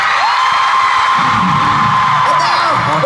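A crowd of around 15,000 fans screams at a concert in Toronto, a loud, continuous roar with high shrieks and whoops rising from it throughout.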